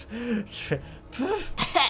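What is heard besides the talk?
dog coughing in video game Victor Vran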